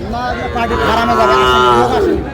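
Cattle lowing at a livestock market selling Sahiwal bull calves in Dinajpur, a long drawn-out moo close by with crowd chatter and voices in the background.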